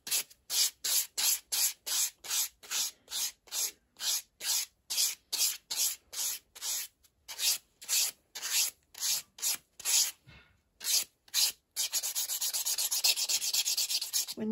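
A file rubs back and forth over dip powder nails in rapid, evenly spaced strokes, crisp and close, then a brief pause and a steadier continuous smoothing buff at the end.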